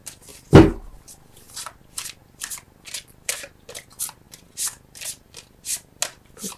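Tarot cards being shuffled by hand in a steady run of about a dozen crisp riffling bursts, each a short papery flutter close to the listener, opening with one louder slap and with no talk over it.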